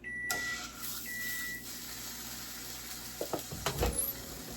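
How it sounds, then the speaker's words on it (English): Bologna hits a hot pan with melted butter and sizzles in a steady hiss, followed by a few clattering knocks of the pan and utensil near the end, no talk. "So I just want to fry my bologna."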